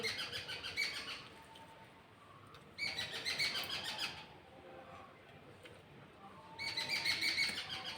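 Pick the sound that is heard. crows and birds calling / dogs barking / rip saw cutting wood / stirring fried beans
crows and birds calling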